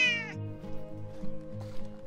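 A wild cat at a campground gives one short, close meow at the start, followed by quiet low ambient hum and faint background sounds.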